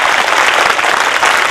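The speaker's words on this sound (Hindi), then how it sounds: "उसके नाम की जोरदार तालियां बजाओ।" Loud, dense audience applause at a school Republic Day event during a chairman's speech, a continuous close wash of clapping with no talk.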